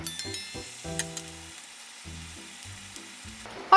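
Pork ribs searing in a hot pan at home, a steady close sizzle and crackle with short bursts of frying, some tonal clatter at the start and a sharp clack near the end, with no talking.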